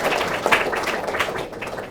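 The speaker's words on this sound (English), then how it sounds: "I'd like to give them a round of applause" A small indoor audience applauds the Monday night team at an LGBT initiative open house, with steady close clapping that holds for a couple of seconds and then thins out.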